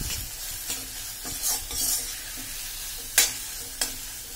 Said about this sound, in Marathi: नंतर हे छान हलवून घ्यायचं आहे।